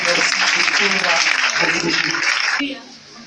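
A church congregation applauding to acclaim the Lord, with loud, dense clapping and cheering that fades toward the end, while a voice speaks over it.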